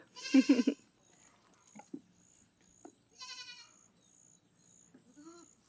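Several boarded goats bleating in a farm pen, with two loud cries and a couple of shorter calls at close range over a faint steady insect-like drone.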